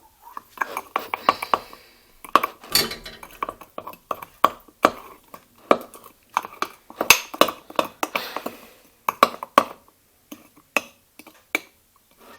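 A spoon stirs coffee-flavored cake batter with sugar in a glass, making irregular bursts of sharp clinks and scraping taps against the sides, close by and separated by short quiet gaps.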